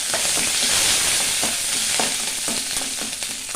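Green chilli and curry leaves fry in hot oil in a pan, a loud, constant close sizzle with faint stirring scrapes underneath and no voices.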